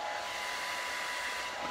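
A close, loud hair dryer roars in a constant airy rush while drying curly hair, unbroken and without any talk.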